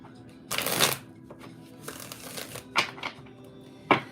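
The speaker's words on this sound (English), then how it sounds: "I got one more shuffle." A deck of playing cards shuffled close by in a few quick riffling bursts with short pauses between them.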